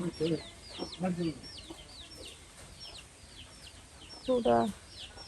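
Chickens cluck and call repeatedly in a village yard, with short bursts of louder clucking near the start and end, while a voice speaks faintly in the background.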